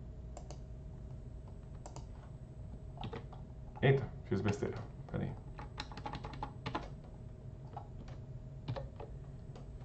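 Fingers tapping on a computer keyboard in bursts of quick clicks, with a voice speaking briefly over the typing.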